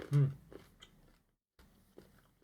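Someone bites into an M&S Extremely Crunchy Cereal Milk Easter egg, a chocolate shell, giving a loud close crunch followed by a few quieter chewing crunches after a brief pause.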